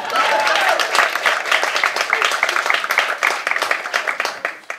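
Audience at a stand-up comedy show applauding steadily for a few seconds, a dense wash of many hands clapping close and loud, with faint voices mixed in and some fading toward the end.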